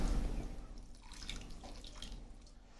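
Water is poured into a karahi holding spices and turmeric for balti chicken, giving a soft, steady splashing trickle close by with no voices.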